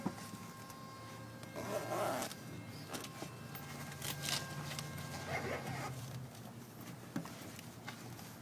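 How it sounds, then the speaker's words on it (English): A Clazzio car seat cover zipper being pulled closed in a car interior, faint rasping zips coming in a few short strokes over low background noise. "Zip up your zipper."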